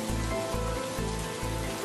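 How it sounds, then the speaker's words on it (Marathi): Heavy rain pours down in a steady, dense wash with a low pulsing rumble underneath. It sounds close and moderately loud, with no voices. "हा कोसळणारा पाऊस"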